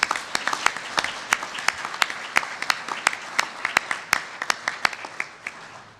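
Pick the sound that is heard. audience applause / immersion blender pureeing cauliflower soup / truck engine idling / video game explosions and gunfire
audience applause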